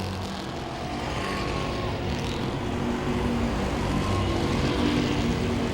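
Stock cars race bumper to bumper at Langley Speedway, their engines a loud, steady droning roar that swells slightly as the pack passes close by.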